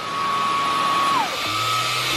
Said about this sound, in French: Il m'a vu en train de faire l'aspirateur